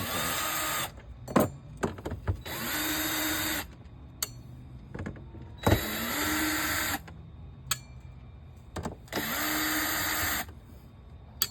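A power drill bores holes for through bolts while fitting an access port riser on a Yamaha SX220 boat, running in several close, whining bursts of one to two seconds separated by clicks and short pauses.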